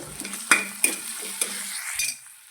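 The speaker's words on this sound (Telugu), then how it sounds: "వేసుకున్న తర్వాత బాగా కలుపుకోవాలండి" Spoon stirring ginger garlic paste, curry leaves and turmeric in a frying pan, with a few sharp metallic scrapes and clinks over a soft, close sizzle.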